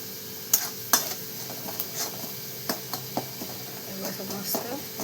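Chicken masala with onion masala and homemade spice mix being stirred in a pan, giving scattered soft scrapes and a few sharp utensil clinks against the metal over about five seconds, with a faint background hum and no talking.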